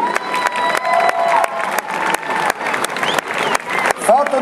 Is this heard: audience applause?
yes